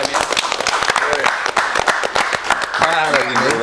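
An audience claps in a mix of sharp, scattered hand claps while people keep talking loudly over and between them.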